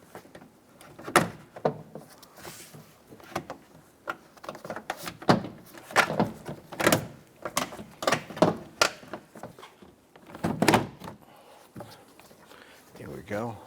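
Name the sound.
Toyota Tundra door panel hung on rail and tapped in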